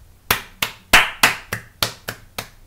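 A few hands clap eight times in a quick, slightly uneven burst, sharp and close.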